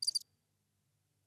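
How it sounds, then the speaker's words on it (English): Crickets give a quick burst of high, rapid chirps, about four pulses, that cuts off sharply into near silence. "Crickets."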